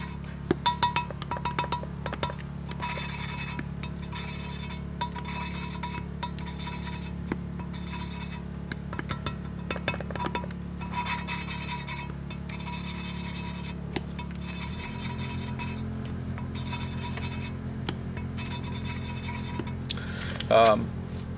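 Engine valves being lapped, metal on metal, give a steady rubbing, rasping grind with faint clinks, repeating back and forth, close and moderately loud, with a constant low hum underneath.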